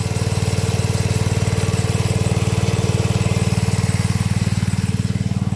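A small engine-driven pump churns out pesticide mix on a mango farm, its motor thumping in a fast, even beat, loud and close, steady throughout with no speech.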